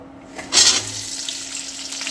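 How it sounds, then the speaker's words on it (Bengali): Green chillies dropped into hot oil in a wok burst into a sharp, loud sizzle that then settles into a steady, softer frying crackle, close up and with no voices. "তেল গরম হয়ে গেছে, এবার এর মধ্যে লঙ্কাগুলোকে দিয়ে দেবো, কাঁচা লঙ্কাগুলোকে"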